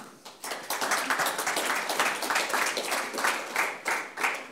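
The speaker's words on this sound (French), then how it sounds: "Merci Guillaume, on peut l'applaudir." An audience at a conference on the securitisation market applauds, a lively run of many hands clapping in close, pulsing waves that continue steadily throughout.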